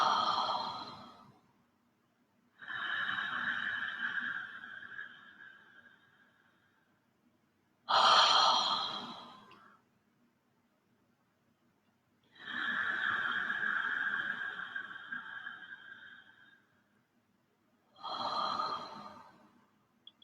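Slow breathwork exhalations come as five long, soft breaths out, each lasting a couple of seconds with quiet pauses between, close and alone with no talking.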